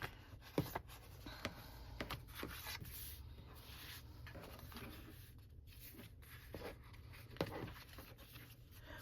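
Paper cards being folded and creased with a bone folder, heard as soft, close rubbing and scraping strokes with a few sharp taps, quiet and without talk.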